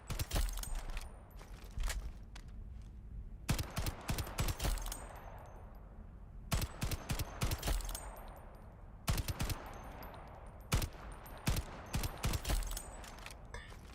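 Rapid pistol shots crack out in the shooter game Shatterline, fired in three distinct bursts of sharp, loud reports with brief quiet gaps between them, close to the listener and without talking.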